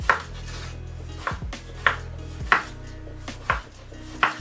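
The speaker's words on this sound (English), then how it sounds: "You want to cut up some tomato." A knife chops through tomato on a board, five or six sharp, spaced strokes close by, with no one speaking.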